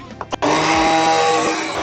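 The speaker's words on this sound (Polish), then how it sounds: "Dobra, blender." Electric blender whirring through crepe batter in a home kitchen, a loud continuous motor drone close by, starting abruptly after a couple of brief clicks and running steadily to the end.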